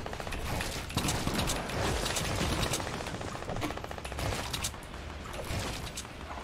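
Video game gunfire, dense rattling bursts of automatic shots mixed with single cracks, loud and almost continuous over a busy background.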